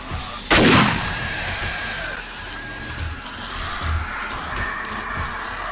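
A single loud, sharp gunshot from 7 Days to Die during a horde night, with a long decaying tail, followed by a steady low game ambience and faint thuds.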